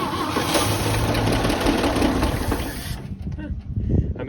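Old 1961 K10 pickup with a 235 engine firing up after sitting ten years, running roughly and loudly for about three seconds, then dropping off into sputtering, uneven bursts.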